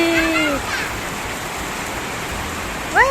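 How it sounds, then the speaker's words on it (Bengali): Heavy rain with thunder pours in a dense, steady hiss, with a voice briefly speaking at the start and again at the end. "উঠান টুঠান সব ভিজে গেছে আর বিদ্যুৎ পুরো গর্জাচ্ছে কি বৃষ্টি"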